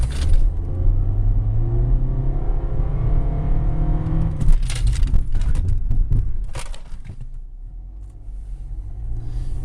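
A 2009 Nissan Altima 2.5S engine roars and rises in pitch as it accelerates hard at full throttle, loud and close, then drops to a lower rumble as it eases off.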